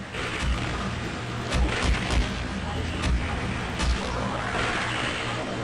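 Gunfire in the video game Rogue Trader: a dense, continuous rumble with several heavier booming shots close together, with speech faintly present in the mix.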